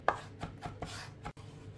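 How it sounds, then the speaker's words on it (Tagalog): Garlic being chopped with a knife on a board for a palabok sauce, about six quick, close thuds spaced by brief gaps, with a soft scrape or lift near the end and no talk. "Chop-chopin lang natin ang garlic"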